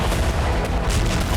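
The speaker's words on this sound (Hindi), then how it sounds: "जोरदार ब्लास्ट के साथ बारूद से सना आग का गुबार आसमान में उठता दिखाई दिया।" A blast at the Dnipro hydroelectric power plant during the war in Ukraine, heard as a loud, dense, sustained rumbling roar that fills the whole moment without any clear break.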